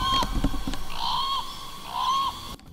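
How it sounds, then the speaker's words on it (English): Channel-billed cuckoo, a large, noisy native bird, letting out two loud, harsh, drawn-out honking calls about a second apart, heard clearly against outdoor background noise beside an archery range. "horrible noise. I think that's a channel billed cuckoo. A large, noisy, native, annoying bird"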